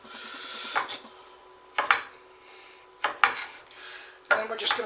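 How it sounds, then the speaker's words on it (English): A knife blade chops steak for tartare on a board, producing four separate bursts of quick, close tapping and scraping strokes with short quiet gaps between them. "we're just going to take and run the blade through it a couple of times"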